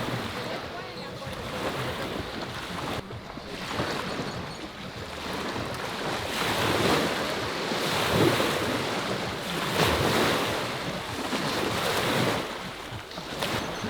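Ocean waves wash onto a beach in Nicaragua, swelling and receding in slow surges under gusty wind noise. Faint voices are mixed in.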